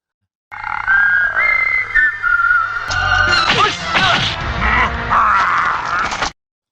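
Melodic whistling with wavering pitch runs under clattering, crashing effects and busy background sounds, fairly loud and continuous.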